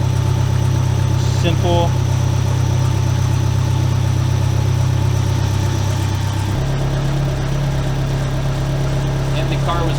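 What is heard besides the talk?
warmed-up car engine idling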